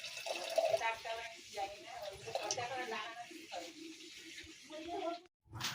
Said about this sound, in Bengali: একটা আলু বাইরে ধুয়ে নিচ্ছি